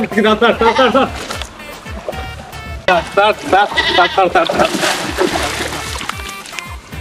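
Goat-like bleats rise repeatedly among busy voices and background music, loud and close, with people talking throughout.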